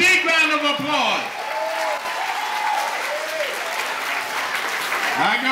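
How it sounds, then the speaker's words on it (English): Audience applause at an African dance show, a steady wash of clapping throughout with cheers and whoops rising over it. "give them a big round of applause."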